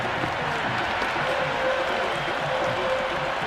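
A dense, steady roar of cheering and clapping fills the stadium during an IPL cricket match between RCB and SRH in Cricket 26, loud and continuous.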